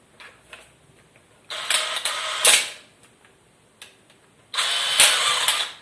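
An electric screwdriver spins under pressure in two loud, close bursts of whirring motor noise, each lasting about a second, separated by quiet clicks and handling sounds.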